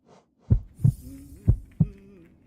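A heartbeat in a video game comes through as two close, loud lub-dub pairs of deep thumps, four beats in all, with near silence between them.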